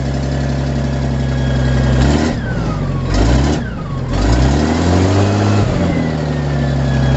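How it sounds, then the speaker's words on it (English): A Hough H50 loader tractor engine runs steadily up close, its droning tone dipping and rising twice as the revs shift, with no talking. "If that tractor will continue to start like that now for a good while, I'll be fine."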